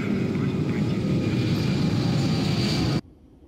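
An airplane roars loudly and steadily for about three seconds, then cuts off abruptly, leaving a quiet hum with possible faint voices beneath.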